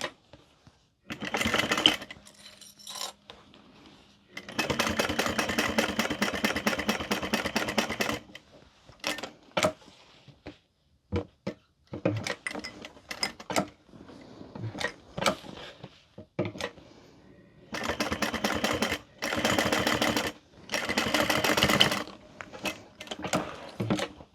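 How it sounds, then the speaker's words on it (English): A sewing machine topstitches both sides of an opened seam on a fabric handbag, running in several bursts of rapid, loud mechanical chatter separated by short quiet gaps and small clicks, with no one speaking. "We're going to top stitch both sides, keeping that seam allowance open."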